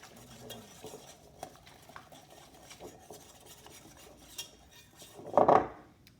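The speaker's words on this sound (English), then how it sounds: "I'm going to go ahead and give this a whisk" Eggs and cooking oil are whisked in a bowl, with quiet rapid ticking of the whisk against the sides. A louder clatter comes near the end, and no one speaks.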